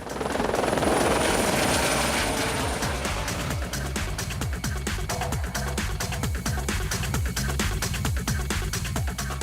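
A helicopter flies over unstable iceberg ice, its rotor chop loud and close throughout, settling into a steady rapid thudding pulse over a continuous engine whine, with no talk.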